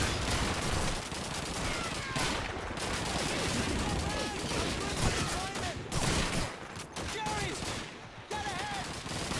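Gunfire from sniper shooting in Call of Duty 2, a busy battlefield of repeated rifle shots and bursts, loud and close, with sharp cracks recurring every second or two over continuous combat noise.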